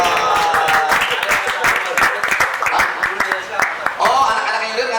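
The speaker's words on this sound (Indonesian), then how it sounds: "Tepuk tangan untuk Uut Bayu Utami." An audience at a school reunion claps in a burst of sharp, uneven hand claps that stay loud and close before thinning out near the end.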